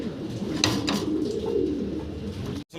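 Fancy pigeons coo in a low, continuous murmur close by, with a couple of brief wing flutters or scuffles partway through before the sound cuts out near the end.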